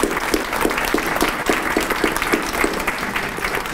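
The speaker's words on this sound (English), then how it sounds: "let's give a round of applause to our" A crowd applauds steadily throughout, a dense patter of many hands clapping at moderate volume with no voices standing out.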